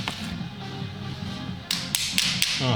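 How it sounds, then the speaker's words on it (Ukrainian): Quiet handling sounds give way to a few sharp metallic taps from a small hammer on an Opel Vivaro 1.6 CDTI Bi-Turbo engine, close and bright, spaced irregularly near the end. "Зараз молоточком ще простукаю, бо тут не зайшло."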